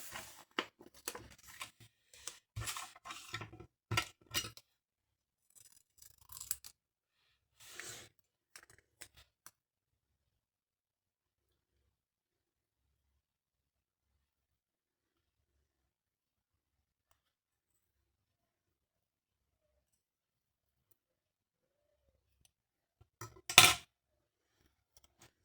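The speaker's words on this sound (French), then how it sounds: "J'ai un rond rose là que je voudrais couper en deux." Scissors snipping through a pink paper circle to cut it in two, a burst of close, crisp cuts and rustles early on, then long silence and one last sharp snip near the end.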